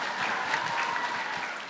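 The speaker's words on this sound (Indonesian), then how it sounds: "beri tepuk tangan untuk Ustadz Dasar" An audience at an Indonesian religious talk breaks into applause for the preacher, a brief, dense wash of clapping heard from within the crowd.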